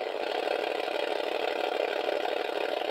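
The 1980 Kenner Redline electronic drag racing game gives off a steady, buzzy electronic engine roar that holds at a high, constant pitch without pause.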